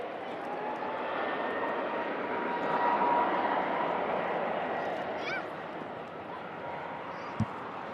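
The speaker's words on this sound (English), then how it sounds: "the EasyJet heading to Sharm el Sheikh" A distant EasyJet airliner bound for Sharm el Sheikh roars steadily overhead at an airport, swelling and fading, with a dog barking briefly and voices in the background.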